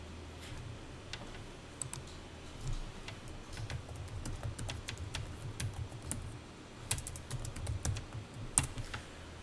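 Fingers tap quick bursts of keys on a computer keyboard during accounting data entry, with irregular clicks and occasional harder Enter presses, close and fairly quiet.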